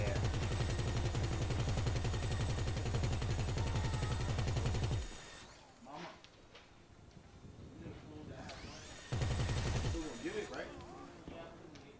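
Gun turrets mounted on a limo fire in GTA 5, dense rapid machine-gun bursts in two loud stretches separated by a quieter gap, with a voice speaking over the action.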